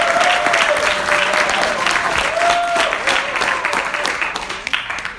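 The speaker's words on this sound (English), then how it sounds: "Give them a big round of applause." An audience claps loudly at a bootcamp event. The dense, steady applause fades slightly toward the end, with a few scattered voices and cheers mixed in.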